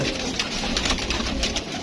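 Pigeons coo softly in a backyard colony in Karachi, repeated low calls over a busy, noisy background with no speech.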